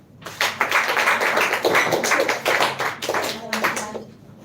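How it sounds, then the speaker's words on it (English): An audience at a speech competition applauds a contestant with a short burst of clapping that swells and fades over a few seconds, mixed with voices. "So clap for Miss Safa Nishad"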